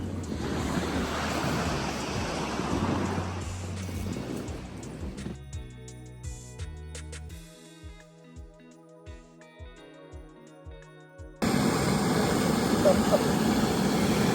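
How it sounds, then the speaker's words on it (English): Waves wash onto a beach at night while camping on the Abel Tasman Coast Track in New Zealand; the steady surf gives way to a stretch of tonal music in the middle, then returns louder near the end. "the sound of the waves"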